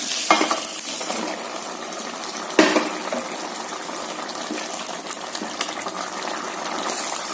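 Water gushes into a hot pan of fried chicken with sizzling and stirring scrapes, a clatter partway through, continuing steadily without talk.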